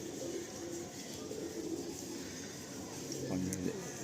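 Pigeons in a loft coo softly in the background against a faint hum, with a clearer coo near the end, while people talk nearby.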